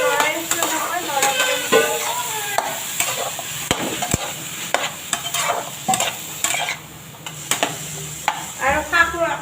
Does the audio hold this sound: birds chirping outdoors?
no